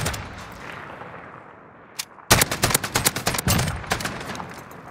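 SMG fire in Call of Duty Modern Warfare: after a quiet stretch, a loud burst of rapid automatic gunfire erupts, sharp repeated shots continuing in quick volleys close by.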